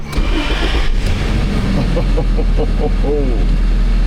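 A 1995 Geo Prizm engine cranks and catches, then runs at a steady idle with a low rumble, close by.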